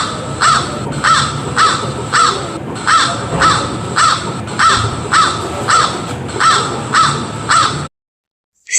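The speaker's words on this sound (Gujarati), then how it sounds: "હવે કાગડાનો અવાજ સાંભળીશું." A crow cawing in a steady series of about a dozen loud, harsh caws at a regular rhythm, close and alone, then silence.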